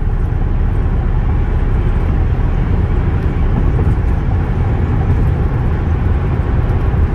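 A 2008 Chevrolet police interceptor cruising at 80 mph, a loud, constant interior roar of engine, tires and wind, dense and unbroken from start to finish.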